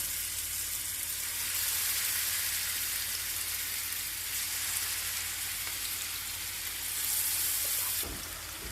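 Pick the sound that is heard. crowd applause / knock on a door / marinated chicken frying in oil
marinated chicken frying in oil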